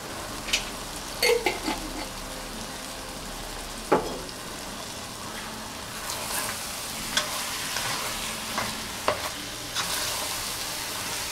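Shrimp gumbo being stirred in a pot after tomato sauce goes in, with scattered scraping and clinking spoon strokes over a steady low simmering hiss, fairly close, no talking.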